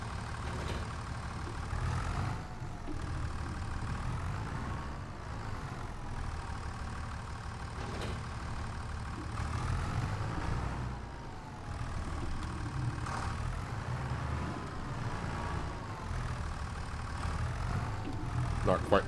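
A tractor engine idles steadily in the Farming Simulator 25 farm game, a low continuous rumble running throughout with slight swells, while a person talks over it.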